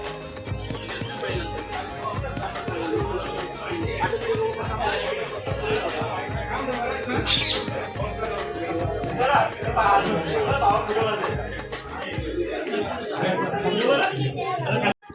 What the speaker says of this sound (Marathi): गर्दी बघा काय ते गणपती बाप्पाच्या आगमनाची